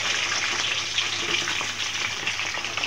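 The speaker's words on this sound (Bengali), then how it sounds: "এখন আমি মাংসগুলি ভেজে নিব" Beef pieces for korma fry in hot oil with a loud, continuous sizzle and crackle that stays even throughout, with no voices.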